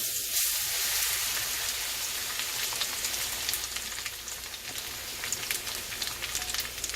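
Bacon grease heats in a propane-fired wok for fried shirataki noodles and shrimp, giving a steady, dense sizzle with fine crackling pops that continues throughout at moderate, close range.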